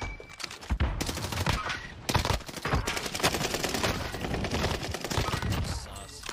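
Rapid gunfire in Call of Duty Warzone on the Caldera map, loud dense bursts of automatic shots with short gaps, sharp and close throughout.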